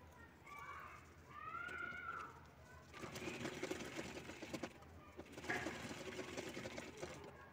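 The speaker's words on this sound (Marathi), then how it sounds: "इथे झिप लावून आपल्याला त्यावर दाबटीप करून घ्यायची आहे।" A sewing machine topstitches along a zip on a shoulder crossbody bag. A voice speaks briefly at the start, then the machine runs steadily and close in two long stretches with a short pause between.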